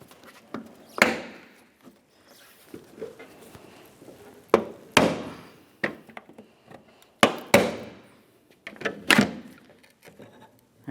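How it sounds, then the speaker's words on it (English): A plastic trim tool pries a trim panel away from the trunk of a 2012–2018 Nissan Altima, giving a series of sharp, close clacks and pops at irregular intervals, with quiet scraping between them. "We'll be using a plastic trim tool to start separating this trim panel from the trunk."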